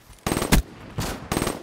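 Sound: shotgun fire in Black Ops 3 video game

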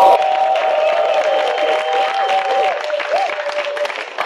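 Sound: studio audience clapping

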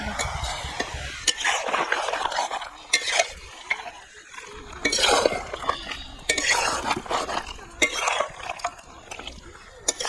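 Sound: stirring chicken curry with fried potatoes in a pot

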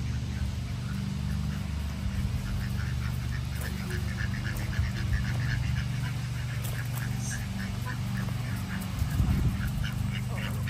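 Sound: ducks quacking

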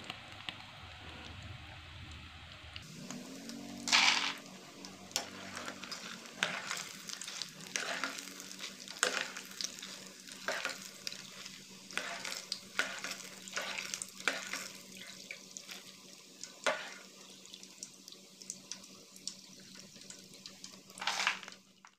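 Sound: frying peanuts for garlic peanuts

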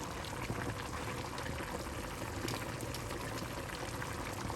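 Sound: cabbage, tofu and shiitake stew simmering in a pot

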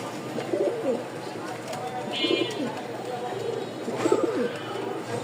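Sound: male pigeon cooing

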